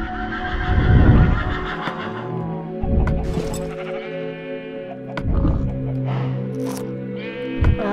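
Several loud Minecraft horse neighs and whinnies ring out one after another, with quieter bleating calls between them and no talking.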